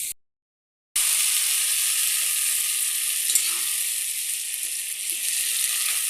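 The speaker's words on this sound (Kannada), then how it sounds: "ಇದನ್ನು ಎಣ್ಣೆಯಲ್ಲಿ ಫ್ರೈ ಮಾಡ್ಕೊಳ್ಬೇಕು" Onion, tomato and green chili frying in oil in a pan, a steady bright sizzle that continues evenly after a brief silent gap at the start, close and without talk.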